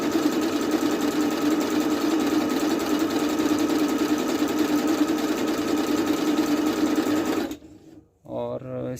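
Singer SN777 sewing machine sewing a triple stitch, a loud, steady motor whir with rapid needle rhythm running continuously before cutting off abruptly, followed by a brief moment of talk.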